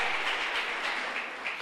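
A congregation in church claps, a dense, steady wash of many hands sustained throughout without pause, no voices on top.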